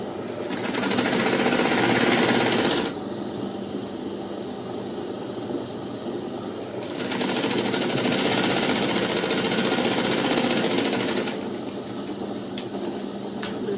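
A sewing machine runs a long stitch along a blouse lining for hemming. The motor whirs in two sustained runs separated by quieter pauses, close and moderately loud.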